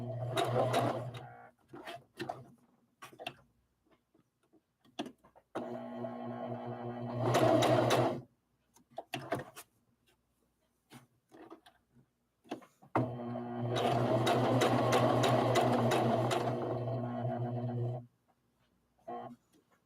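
Sewing machine stitching fabric for a rag doll: two bursts of steady motor whirring and needle chatter, a short run and then a longer one, separated by quiet handling noises and pauses.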